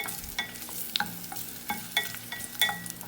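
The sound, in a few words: ginger sizzling as it is sautéed in cooking oil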